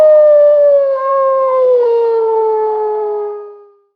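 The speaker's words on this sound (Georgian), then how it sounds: "მგელი." A single wolf howl, long and tonal, slowly falls in pitch over about four seconds before fading out. It is loud, clear and alone.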